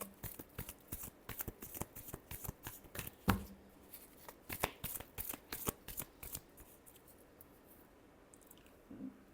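Tarot cards are shuffled by hand in quick, crisp riffling bursts and slaps, close and dry, repeating in a loose irregular rhythm before trailing into faint rustles.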